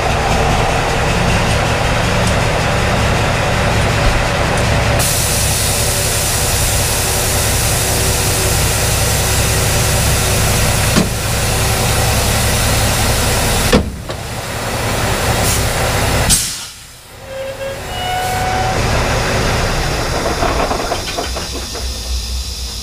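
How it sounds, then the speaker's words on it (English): A semi truck tractor's engine rumbles steadily with hissing air, then air brakes release with a sharp burst as the tractor pulls forward while unhooking a trailer. "So now we can pull forward with our tractor, and now we'll disconnect the trailer."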